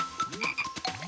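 A frog croaks in a short, close burst of raspy, bubbling calls, alone and fairly quiet.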